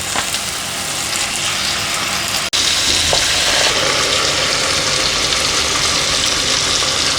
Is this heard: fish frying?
yes